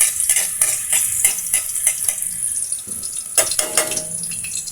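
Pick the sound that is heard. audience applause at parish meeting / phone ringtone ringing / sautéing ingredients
sautéing ingredients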